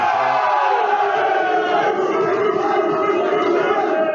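Crowd at a darts money match roars and cheers, a dense, loud, sustained wall of voices that holds steady throughout.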